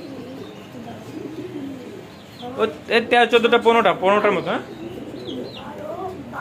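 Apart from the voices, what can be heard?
pigeons cooing, several pigeon breeds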